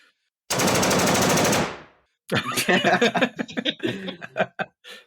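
A man imitates gunfire with his mouth, first a long sustained burst like a machine gun, then after a short pause a rapid run of choppy staccato shot sounds, close and loud, with a faint chuckle at the end.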